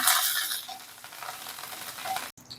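Curry leaves and torn dried red chillies sauté in hot oil in a pan for a Siruvani chicken dish, a bright sizzle that bursts loudly at first and then settles into a softer crackle with occasional stirring.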